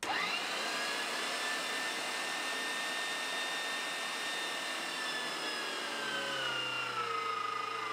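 Electric meat grinder fitted with the wide plate mincing fat, a steady loud motor whine and drone that holds throughout and drops slightly in pitch near the end, no talk.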